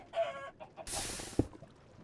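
Chicken in Minecraft giving a brief cluck, followed by a burst of hissing noise and a soft thump, sparse and fairly faint.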